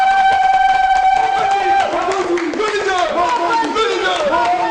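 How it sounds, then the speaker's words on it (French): A village crowd in Embala applauds and cheers their guide at an outdoor environmental theatre performance, loud dense clapping mixed with shouts and whoops, preceded by a sustained sung or called-out voice. "Population d'Embala, applaudissez votre guide."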